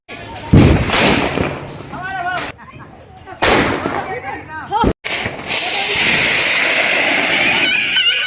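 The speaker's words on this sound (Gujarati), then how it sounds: "બોમ્બ ફોડો મોટી મોટી મજા આપણે બોમ્બ ફોડે છે" Several loud, sharp firecracker bangs burst close by during Diwali amid excited chatter and laughter, followed by a sustained crackling hiss.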